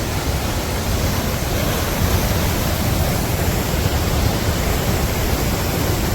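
Kalu waterfall in Malshej Ghat, a steady, dense roar of falling water that fills the scene continuously without pause, heard alone with no voices.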